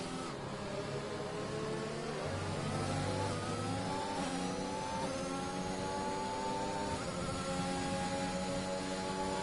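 Formula 1 racing cars in an F1 video game at the Imola circuit, several high-pitched engines whining and shifting pitch together as they rev and pass, a continuous loud drone with no talking.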